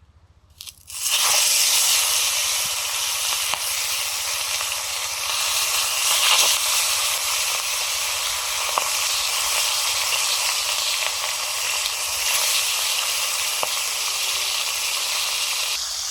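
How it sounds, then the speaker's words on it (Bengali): Fali fish frying in hot mustard oil over a fire, a loud, dense, continuous hiss and sizzle that bursts in suddenly after a brief quiet start and holds steady at close range. "ফলি মাছগুলো ভেজে নিচ্ছি।"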